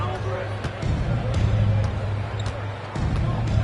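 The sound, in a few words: basketball dribbling in the video game NBA 2K23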